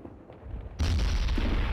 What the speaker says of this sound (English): Yeah, the mortar is lagging a little bit.